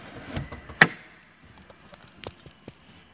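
Rear seat latches released and seatbacks dropping down in the back of an Audi A3 Cabriolet: a sharp clack, then several lighter thuds and clicks spread across the moment, close and fairly quiet.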